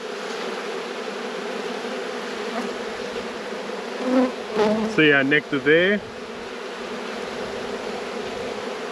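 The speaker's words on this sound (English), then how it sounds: "Good number of bees" Honey bees hum in a steady, dense drone from an open hive during an inspection, with someone talking briefly over the buzzing midway through.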